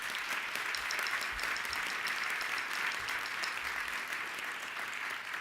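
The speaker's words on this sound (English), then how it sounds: "So I'd like to get a round of applause for Frederica, please." An audience at a roast claps steadily in sustained applause, dense and even throughout, with no talk over it.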